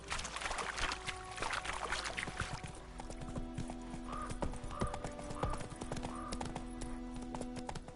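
Horse hooves clip-clopping at a steady rhythm in The Witcher 3, close and clear, with an occasional whinny and faint ambient background.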